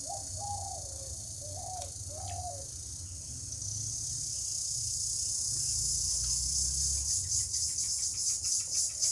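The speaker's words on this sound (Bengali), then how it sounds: "এটাকে বলে ঝিঝি পোকা, বুঝছো?" Crickets chirp in a dense pulsing trill that builds over a few seconds, while a dove coos a few times at the start; no one talks.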